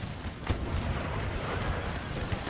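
Cannon fire in a Napoleonic-era 1809 battle video game, with a sharp boom early on over a rumbling, noisy battlefield din that continues with a few softer thuds.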